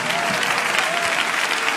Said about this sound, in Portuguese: Podem louvar a Deus com palmas